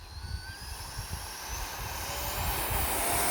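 An E-flite F-16 Falcon 80mm electric ducted fan RC jet spools up to full throttle for takeoff, a loud rising whine over rumbling wheels that builds steadily, with a thin high-pitched tone.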